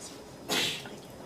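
A single sneeze in a courtroom during a jury trial, a short sharp burst of moderate loudness against a quiet room.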